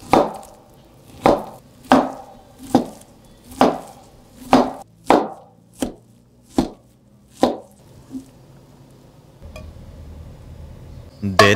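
A knife chops through a cucumber on a board in about ten sharp, evenly paced strokes that stand out clearly, then stops, leaving softer handling sounds at the end.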